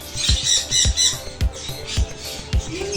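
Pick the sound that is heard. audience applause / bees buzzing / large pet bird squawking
large pet bird squawking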